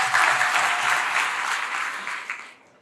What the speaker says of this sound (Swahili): Piga makofi kwa Samia.